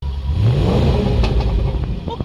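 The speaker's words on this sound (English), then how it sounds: "this is Alex revving an SVR engine exactly as this engine." Supercharged V8 of a Range Rover SVR revving hard, a loud continuous close-up roar with a deep rumble and rising engine notes, no talk.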